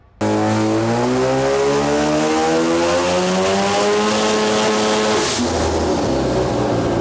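A race car engine catches and roars steadily, its pitch sweeping upward and back as the throttle is blipped, loud and close with no talking.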